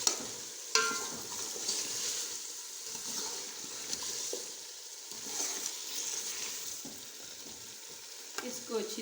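Chicken feet fry in a spiced masala in a pan, giving a steady soft sizzle broken by scraping stirs and occasional clinks of the spoon against the pan.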